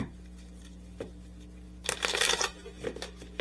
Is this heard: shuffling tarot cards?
yes